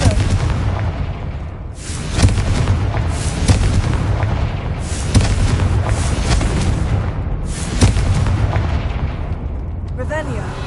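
Several Confringo fire spell explosions burst one after another in Hogwarts Legacy. The loud booms land every couple of seconds over a continuous rumbling game soundscape.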